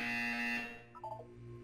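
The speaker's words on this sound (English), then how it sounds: "You will hear a buzzer." In Portal 2, a loud electronic buzzer drones with a bright, steady tone, then cuts off and leaves a quieter, brief warbling beep and low hum.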